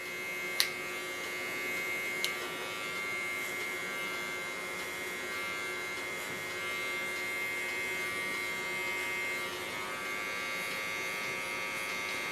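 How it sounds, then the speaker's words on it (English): A small Kiona electric hair clipper with ultra-fine teeth trims a short platinum-blond pixie cut along the hairline near the ear, giving a close, steady buzz with a couple of faint clicks near the start. "do this underline with a small clipper."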